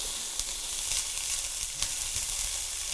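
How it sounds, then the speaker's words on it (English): Bell pepper and onion sautéing in a hot pan, a dense continuous sizzle with occasional stirring scrapes and pops, loud and close with no voices. "we're going to saute up a little bell pepper and onion"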